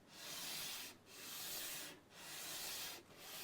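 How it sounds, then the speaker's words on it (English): Sandpaper rubs back and forth on a part of an Ibanez parlour acoustic guitar, making three long, even strokes with short pauses between them, close and quiet. "I'm going to now concentrate on sanding this thing down using the same technique"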